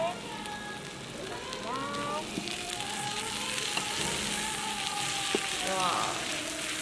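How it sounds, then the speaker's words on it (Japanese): Meat sizzles on a tabletop grill at a buffet, a steady close hiss and crackle running throughout, with faint voices murmuring underneath. "よく焼いてお召し上がりください。 焼きながら食べるはい、そうです。"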